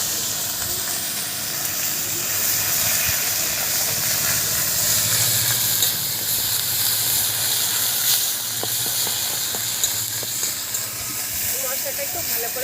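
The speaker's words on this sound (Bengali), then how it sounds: "ওই তেলের মধ্যে আদা রসুন যে মশলাটা বাটলাম সেটা কিন্তু সব দিয়ে দেবো।" Ginger-garlic spice paste frying in hot oil in a village kitchen, a loud, continuous sizzling hiss throughout with faint clinks and stirring underneath.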